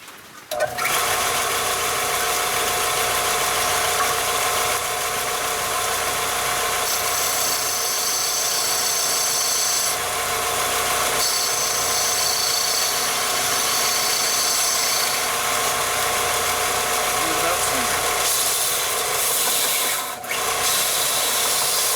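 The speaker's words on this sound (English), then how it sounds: "I'm gonna use the belt sander, or probably the circular sander on it." A circular sander runs continuously on a small scrap jack pine mushroom, a loud steady motor whine with grinding hiss that holds for about twenty seconds, dipping briefly near the end as the wood shifts against the disc.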